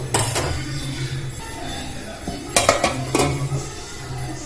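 A lid set on a pan of papaya and mung dal, a few sharp metallic clanks and clinks against a low cooking hum, close and distinct.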